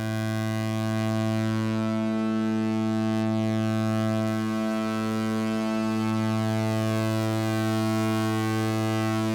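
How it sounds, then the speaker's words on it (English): A Bitwig polysynth drone fed through a feedback delay with an octave-up pitch shifter, a dense sustained ambient tone with shimmering upper harmonics and slow swelling movement, steady and loud throughout. "So in the feedback effects here, we will use the pitch shifter, set is an octave up, so 12 semitones up."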